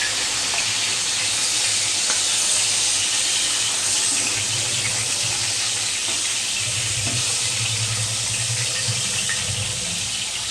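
Pieces of katla fish frying in oil in a pan, giving a steady, continuous sizzle at close range that stays fairly even and unbroken throughout, with no talking over it.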